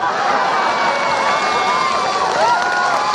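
Newcastle supporters fill the streets with a dense, continuous roar of cheering and shouting, close and loud throughout, with voices rising over the crowd noise.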